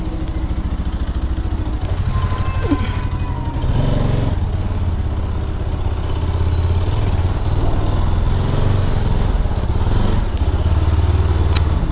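A motorcycle engine runs steadily close by on a village road for about twelve seconds, a low continuous rumble with a few clatters and thumps and no talking.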